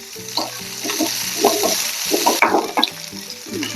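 Okra pieces sautéing in a pan for Kerala sambar, with a continuous sizzle broken by repeated rhythmic stirring scrapes and spoon knocks, close and fairly loud.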